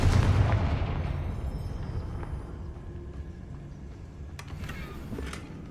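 Confringo explosive spell blast in Hogwarts Legacy, opening as a loud, deep boom that decays into a long rumbling tail, with a few faint clicks and game sounds later on.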